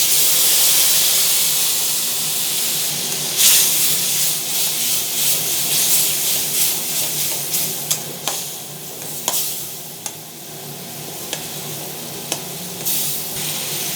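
Tomato and onion frying with salt, turmeric and ground cumin, ginger and chilli in a pan, a loud steady sizzle with repeated sharp scraping stirs and clicks of a spatula against the metal.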